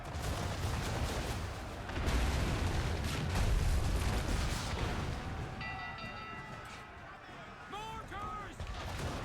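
Mortar explosions in a video game: a series of loud, heavy booming blasts that roll on continuously, with a few rising whistling tones near the end.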